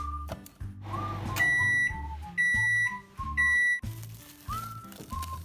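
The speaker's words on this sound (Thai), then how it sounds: "มาปิดถุงพลาสติกคืนเนาะแล้วก็จะเอาเข้าไมโครเวฟอีกรอบหนึ่งค่ะ" A microwave oven runs while heating strawberry mochi dough sealed in a plastic bag, its steady hum broken by a series of loud, high electronic beeps, with no talking.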